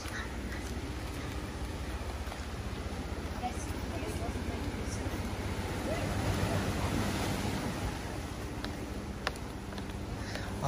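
Waves wash onto the beach at Praia do Cabeço, Itapema, a steady broadband roar with gusts of wind buffeting the microphone throughout.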